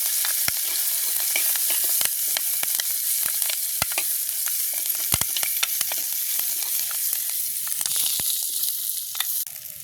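Onion and garlic sautéing in a pan, a loud, continuous close-up sizzle with frequent sharp crackles and pops and occasional stirring scrapes, no voices.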